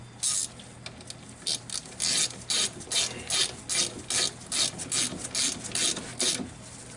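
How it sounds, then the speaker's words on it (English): A ratchet tightens a bolt on a car's front brake caliper, giving a steady run of about fifteen sharp, even clicks close up with no voices. "Take your ratchet."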